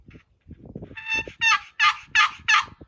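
Turkey box call gobbling, the box body gripped hard to muffle and change its tone; a rising yelp then four loud, evenly spaced gobbling bursts, close and alone.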